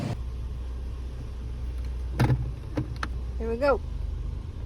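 A car driven slowly on a road, the steady low engine rumble and road noise running throughout, with brief voices speaking over it.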